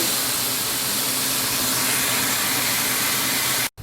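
Seafood, mussels and shrimp, sizzling in the bottom of a frying pan, a loud steady hiss filling the whole stretch before cutting off abruptly at the end.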